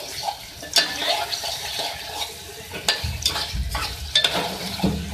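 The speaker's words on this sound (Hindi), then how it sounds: "इसको अच्छे से मिक्स कर लें।" Beef mixture being stirred and fried in a pan: scraping spoon strokes come in irregular bursts over a soft sizzle, close and fairly loud, with no talk.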